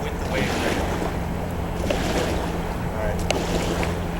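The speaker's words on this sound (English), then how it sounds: "I'm moving with the waves right now." Ocean waves wash and churn around a swimmer in open water, a constant loud rush of surf mixed with wind buffeting the microphone, with no clear talk.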